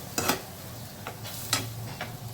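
Sambar masala being stir-fried in a pan: four short scraping strokes of a spoon spaced about half a second apart over a soft, faint sizzle, with no speech.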